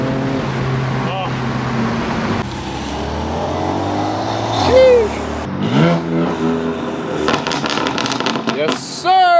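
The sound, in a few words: tuned 350HP VW MK7 GTI accelerating with downpipes and exhaust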